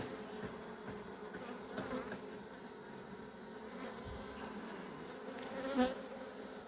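A low, steady buzzing hums throughout, the drone of many honeybees close by at a hive being fed syrup, with a slightly louder swell near the end.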